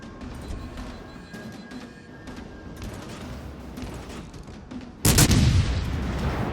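Naval gunfire from a World of Warships Legends match: a steady rumble of distant battle noise builds to a sudden loud, booming salvo that rings out and slowly decays, with no talking.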